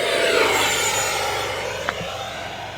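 Giant RC model jet flying past at an evening flying field, a loud airy turbine roar that holds steady before slowly fading, with a brief sharp click near the end.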